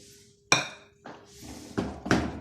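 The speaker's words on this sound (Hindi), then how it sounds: "अब इसको खूब अच्छी तरह मिक्स किया कि कीमे में ये सारा मसाला मिक्स हो जाए।" Metal spoon clinking and scraping against a karahi while beef keema, machine-minced, is mixed with masala; several sharp clanks spaced out over a couple of seconds.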